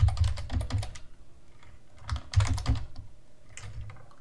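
Close, fast typing on a computer keyboard while writing code for a file-upload tutorial, clattering in several bursts with short pauses between them, alone with no talk.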